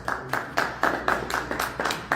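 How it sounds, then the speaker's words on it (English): An audience at a live investment event in Vancouver gives a short round of applause, with bursts of clapping rising and falling in waves at moderate distance; no talk over it. "Please, can we give a round of applause for him, please?"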